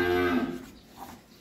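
A Holstein Friesian heifer calf gives a single loud moo up close, strong at the start and tailing off quickly into quiet farm background.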